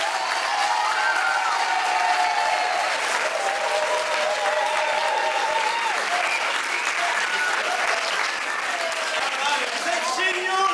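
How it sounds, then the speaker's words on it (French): Audience at an improv comedy cabaret applauding steadily and loudly throughout, a dense continuous clapping with some crowd voices and cheers mixed in. "là il faut les applaudir"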